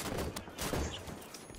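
A scattershot weapon fires in the Halo 5 campaign, with a rapid burst of crackling shots and a rattling spread of impacts, loud and dense over the short moment.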